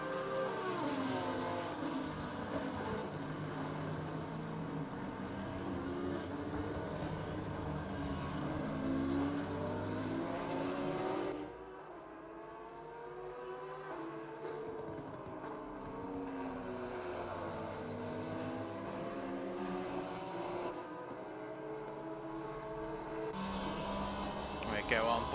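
Race car engines in Assetto Corsa Competizione, heard onboard a Porsche, make a loud continuous roar that rises and falls in pitch through gear changes, with a commentator talking over it.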